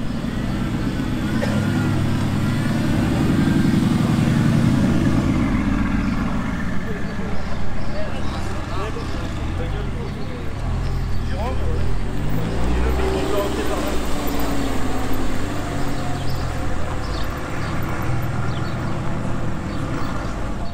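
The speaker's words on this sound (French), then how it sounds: "Alors là on a une arrivée AMG GTS, R8 V10 boîte manuelle et Corvette Z06" A Mercedes-AMG GTS, a manual Audi R8 V10 and a Corvette Z06 arrive during a supercar rally, their engines rumbling loudly and swelling and fading as they pass, while people talk over the noise.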